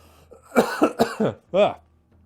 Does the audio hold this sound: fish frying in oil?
no